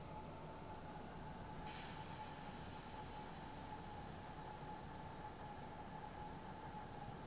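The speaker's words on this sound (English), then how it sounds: "I need to put a lot of brakes on right now without going into emergency brake status" A regional train in a railway simulator game runs the RE30 Pegnitztalbahn route from Nuremberg Hbf while braking into a platform, heard as a faint, steady rolling rumble with a thin sustained tone and a slight shift partway through.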